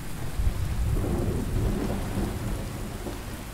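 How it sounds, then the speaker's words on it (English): Thunder rolls over steady heavy rain in the video game Under A New Sun, a loud continuous storm wash with deep rumbling throughout and no talk. "that thunder is nice"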